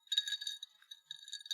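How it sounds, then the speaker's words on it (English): Ice cubes tinkle and clink against the side of a drinking glass held right up to a microphone, a close, bright cluster of light chinks in two bursts with a short pause between. "Here's some ice tinkling in a glass."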